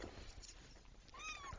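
A single short cat meow near the end, faint and somewhat distant, preceded by quiet room noise and soft handling sounds.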